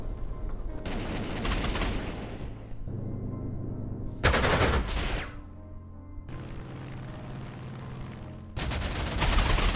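Bursts of rapid machine-gun fire and gunshots during an aborted bombing run in the Panzer Corps 2 strategy game, several loud rattling volleys separated by short gaps.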